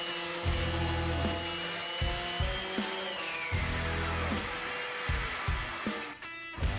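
Wooden boards being finish-sanded with 120 grit sandpaper make repeated rasping strokes in an uneven rhythm, heard under background music.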